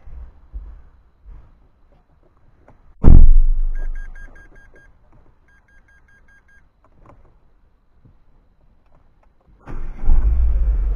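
A Renault Clio petrol engine cranks and catches with a sudden loud burst, then settles to a quiet idle, followed by soft electronic chimes and, near the end, another loud rushing surge.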